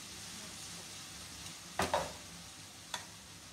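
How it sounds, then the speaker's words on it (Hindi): Chicken pieces fry in a pan with a steady sizzle, broken by a couple of sharp scrapes and clicks from stirring. "चिकन डाल के चिकन को थोड़ा सा फ्राई करेंगे ताकि चिकन का कलर थोड़ा सा चेंज हो जाए"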